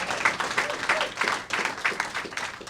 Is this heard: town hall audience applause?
yes